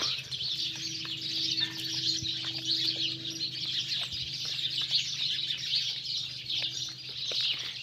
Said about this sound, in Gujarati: જે આમાં ચકલીઓ ટાણમાં છે ને કલરવ કરે કલરવ.